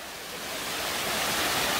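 Gitang waterfall in Baegun valley on Jirisan gives a steady, close rushing roar of falling water, a dense wash of noise that swells slightly and carries on without pause.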